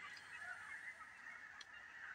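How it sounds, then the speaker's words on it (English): Hundreds of Canada geese in a cornfield and water honk in a continuous, overlapping chorus that sounds distant and faint, with no voices. "Can you hear all those geese? Those are Canadian geese."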